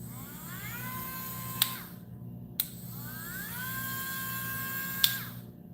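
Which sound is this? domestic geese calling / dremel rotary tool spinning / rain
dremel rotary tool spinning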